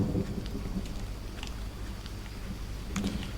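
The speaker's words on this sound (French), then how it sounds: "super il pleut" Steady patter of rain in the video game Green Hell, with a soft background hiss and a few scattered brighter drops, continuous throughout.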